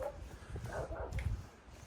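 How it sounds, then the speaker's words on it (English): A chihuahua yaps a few times, faint and distant, with short sharp barks over low background rumble. "sound like a little tiger chihuahua"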